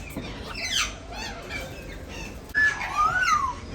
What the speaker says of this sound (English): The wolf whistling was cute though.